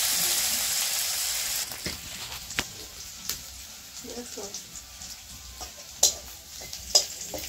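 Potatoes frying in a pan for a greens dish, a steady hiss with scattered stirring clicks and a few sharp utensil taps, close by.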